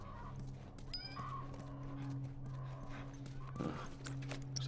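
Faint horse sounds in the game The Last of Us, soft hoof clops and a short whinny-like snort over a quiet low hum, with a brief sharp tonal sound near the one-second mark.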